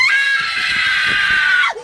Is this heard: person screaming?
yes